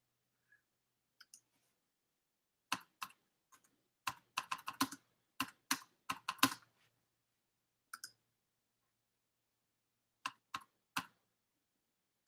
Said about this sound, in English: Oh, my typing.